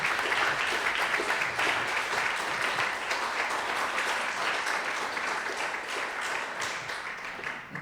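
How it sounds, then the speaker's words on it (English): Sustained audience applause fills a room after a talk at a UX and data evening event, dense steady clapping from many hands, loud and even throughout before easing slightly near the end. "Let's give Brian another round of applause."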